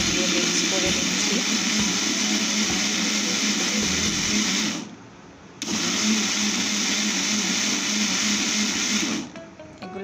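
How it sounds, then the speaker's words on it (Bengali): A kitchen mixer grinder blends ginger, onion and garlic into a paste, a loud continuous motor whir that cuts out briefly and starts again for a second burst. "তারপর আদা, পেঁয়াজ, রসুন এগুলোকে মিক্সারে দিয়ে মিক্স করে নিচ্ছি।"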